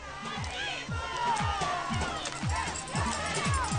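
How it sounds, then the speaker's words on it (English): A football crowd at a game between Puckett and Mize roars continuously, shouting and cheering for their defense, with rhythmic chanting pulses and stomping beats under the din and a voice talking over it. "the crowd trying to get behind their defense on this one"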